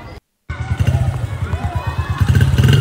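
A small motorcycle engine revs loud and close with a throbbing, pulsing idle that builds toward the end, following a brief cut of silence, with voices faintly underneath.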